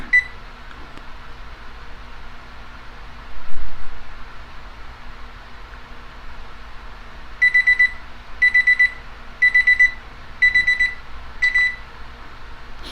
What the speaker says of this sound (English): that stops the beeping